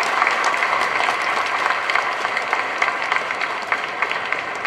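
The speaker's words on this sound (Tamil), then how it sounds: "நம்மளோட சார்பா பெரிய கைத்தட்டலோட உற்சாகத்தோட இங்க வந்திருக்கவங்க எல்லாரையும் வரவேற்போம்." A large audience at a Tamil stage event claps steadily in warm welcome, a dense, even wash of applause that holds throughout without talk over it.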